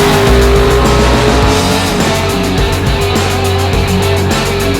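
Street race car doing burnouts, a loud, steady engine roar with sustained tire squeal and skidding noise, close and continuous with no talking.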